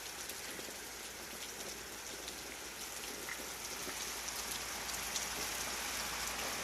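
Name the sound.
heavy rain falling outside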